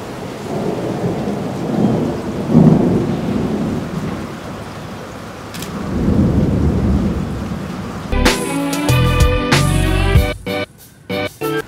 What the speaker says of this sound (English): drinking a little coffee in the afternoon, and listening to the thunder